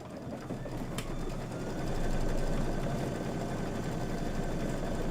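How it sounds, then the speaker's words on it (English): An embroidery sewing machine runs a quilting stitch with a fast, steady mechanical chatter and whirring motor, continuous and close throughout, with one brief sharp click near the start. "just go ahead and hit start, and it is going to do the quilting stitch"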